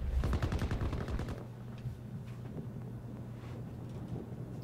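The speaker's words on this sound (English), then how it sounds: "Where am I getting shot from?" Gunfire in the video game Battlefield 2042: a dense, loud burst of rapid automatic shots in the first second and a half, followed by scattered quieter distant shots over a steady low engine-like hum.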